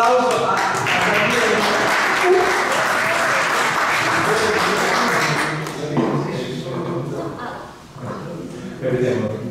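Audience applause at a puppet theatre with Arlecchino, a dense burst of many hands clapping that fills the room, then thins out and fades near the end, with voices mixed in.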